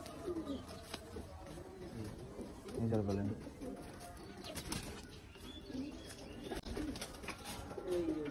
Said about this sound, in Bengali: এগুলো মিলিটারি কবুতর, নর কবুতর